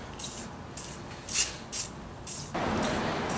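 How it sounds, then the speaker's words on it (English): Several short hissing bursts of WD-40 aerosol sprayed around the edge of a tire on a beadlock rim, evenly spaced, followed by a longer continuous spray at the end. "we're going to spray a little bit of WD-40 around the edge of the tire."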